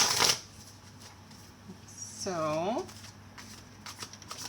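Modern Love Tarot cards by Ethany are shuffled in brief riffles, a sharp burst at the start and softer rustles after, with a voice speaking briefly amid the quiet handling.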